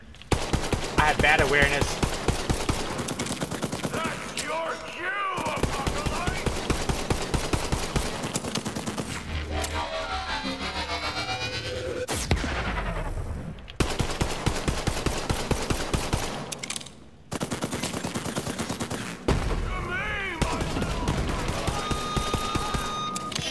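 Enemy gunfire in Borderlands 3, loud sustained automatic bursts with dense rapid shots broken by brief pauses and a few heavier blasts, someone talking over parts of it.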